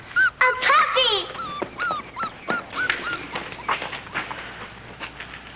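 A puppy whimpers and yelps in a series of short, high, wavering cries, close and fairly loud, with a faint low hum underneath.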